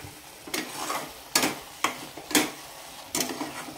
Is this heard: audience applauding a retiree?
no